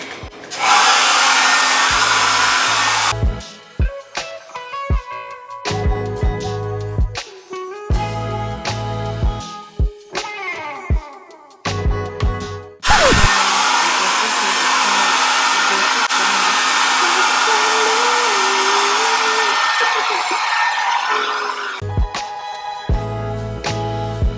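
A loud hair dryer blows while wet hair is being dried and straightened with tension, its steady roar cutting in and out in short bursts, then running continuously for a long stretch.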